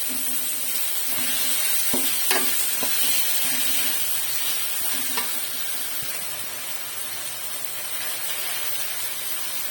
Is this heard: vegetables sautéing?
yes